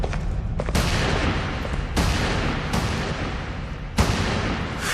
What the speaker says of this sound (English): The shotgun soon punched a series of irregular holes in the metal plating